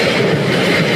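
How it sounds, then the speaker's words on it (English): A London Overground train rushes through a station without stopping, a loud, close roar of wheels and rumble filling the short moment. "The train now approaching Platform 1 does not stop here."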